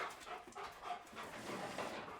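A large dog pants steadily and quietly nearby during a training session, with rhythmic breathy huffs and no talking over it.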